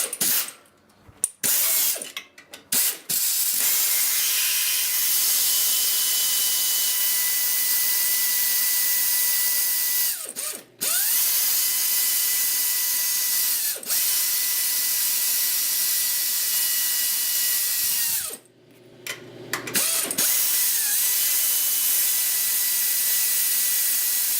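A ratchet with a 14 mm socket backs bolts off a metal bed frame bracket, its rapid pawl clicking running long and steady up close, broken by a few short pauses.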